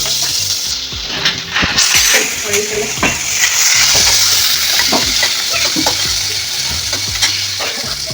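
Chopped onions fry in hot oil with mustard seeds and cumin, a steady sizzle broken by frequent spoon scrapes and stirring clatter against the pan.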